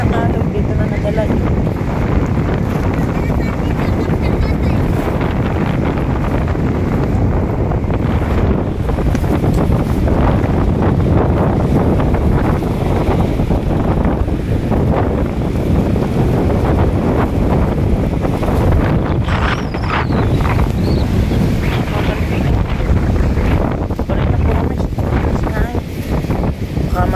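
Strong sea waves and gusting wind at a shore, a constant loud rushing roar with heavy wind buffeting on the microphone and people talking throughout.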